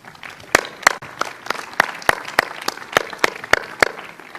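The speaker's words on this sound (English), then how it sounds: "Let's give them a round of applause as well." Sparse, sharp hand claps ring out in a steady rhythm, about three per second, at a 2020 Indian Hill High School commencement, as though only a few people are clapping nearby.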